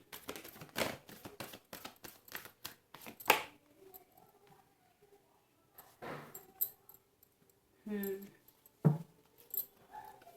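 Tarot cards are shuffled in a fast series of sharp, close flicks and taps over the first few seconds. After that comes quiet broken by a few scattered rustles and handling noises.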